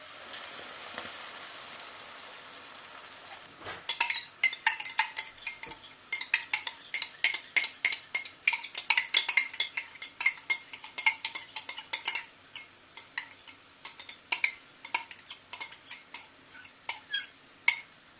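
Cream being stirred into mushroom shell pasta in a pan, a utensil scraping and clinking against the metal in quick irregular strokes over a low simmering sizzle, close and clear with no talk.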